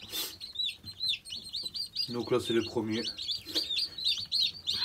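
Many high, thin peeping calls from young Eurasian teal ducklings chirp continuously nearby, with someone speaking briefly over them.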